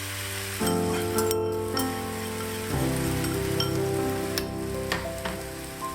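Stir-fry sauce hits a hot pan with udon noodles for Japanese miso yaki udon, a loud, close, continuous sizzle with occasional light clinks and stirring, and no one speaking.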